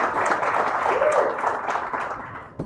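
Dinner theater audience applause during a live show, a steady moderate wash of many hands clapping in a room, with a faint voice rising briefly over it.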